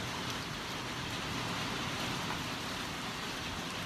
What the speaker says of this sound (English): There's a little bit of hail.